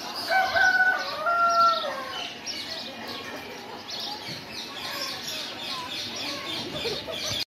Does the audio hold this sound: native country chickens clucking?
yes